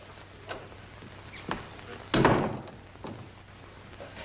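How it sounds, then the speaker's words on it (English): An interior door in a 1940s crime drama is pushed shut with one solid thud midway through. It stands out against faint room tone and a few light taps. "Shut the door."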